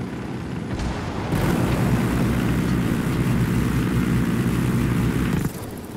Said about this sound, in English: Jumping out the helicopter.